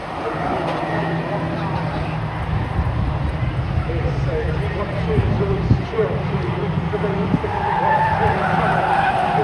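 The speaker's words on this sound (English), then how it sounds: "it's a big bitty oversteer coming into that first corner" Race car at Knockhill circuit oversteering into the first corner, tires skidding. A loud, continuous roar of engine and tire scrub runs the whole way, with faint voices underneath.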